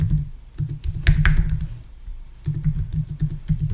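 A domain name being typed on a computer keyboard: steady, close clicking keystrokes in two runs with a brief pause between them, and no voices.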